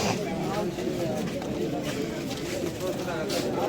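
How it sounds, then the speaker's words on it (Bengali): Pigeons of many kinds at a morning pigeon market in Shyambazar coo and flutter in a dense, continuous crowd murmur, with a voice talking over the birds throughout. "দেখতে পাচ্ছ নানা রকম পায়রা এখানে আছে"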